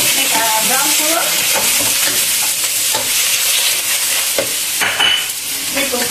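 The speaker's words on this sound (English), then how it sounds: "So first, I'm gonna stir fry a little bit the fruit." Fruit stir-fries in a hot pan as the start of homemade palabok, a loud continuous sizzle broken by repeated scraping and clattering stir strokes, with faint talk in the background.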